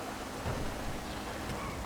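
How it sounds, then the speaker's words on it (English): Steady, dense rain hisses through a GTA race as a continuous, even wash of noise with no clear breaks, fairly loud and alone. "That rain, it's incredible."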